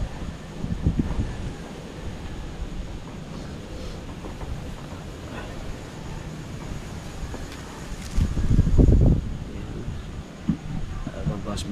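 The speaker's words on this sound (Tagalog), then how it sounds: "Malakas ang hangin." Strong wind buffets the microphone in low, rumbling gusts, with one heavy blast near the end, while a person speaks intermittently.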